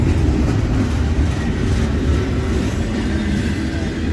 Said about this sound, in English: Train is definitely picking up speed here.